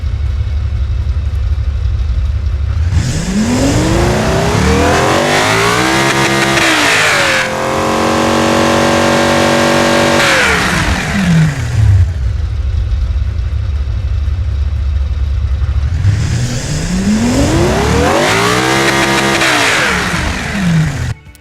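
Hypercar engine in the Automation video game, 750 horsepower, revving up and down repeatedly with rising and falling pitch sweeps and sustained high-rev holds, loud and close with no talking.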